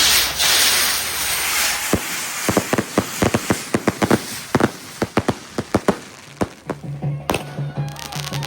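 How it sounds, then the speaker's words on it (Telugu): Firecrackers go off at a wedding celebration in a rapid string of sharp cracks, irregular then quickening, loud and near, with a hiss of burning and popping at the start. "క్రాకర్స్ ముట్టిస్తున్నారు."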